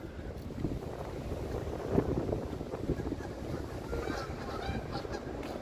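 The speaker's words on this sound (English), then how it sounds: "I hear some honking Canada geese flying over." Canada geese honking faintly in the distance as they fly overhead on a bitter cold day in Toronto, over steady wind noise, a few scattered calls rising and fading.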